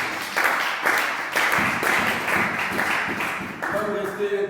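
A church congregation applauds the Lord with rhythmic clapping that keeps going for several seconds, mixed with voices and singing in the room.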